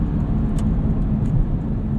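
Inside a 2003 Lexus IS 300 with a five-speed manual gearbox on Blizzak WS-90 tires, a steady low road and engine hum fills the quiet cabin while driving on dry pavement, with no rattles.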